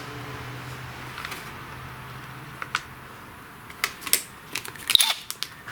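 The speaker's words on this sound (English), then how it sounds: "start the screws on a low setting on my impact, and then finish them up by hand" A cordless impact driver on a low setting starting screws on a STIHL MS271 chainsaw during repair, with short sharp rattling bursts and clicks clustered toward the end over a quiet workshop background.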